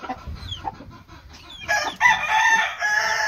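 An Asil hen clucks in several close, loud bursts, with a sharper, busier stretch of calling in the second half, heard alone without talk.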